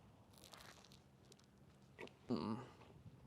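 A bite into a crunchy croissant with a sweet sesame filling gives a close crisp crunch near the end, after faint crackling and chewing.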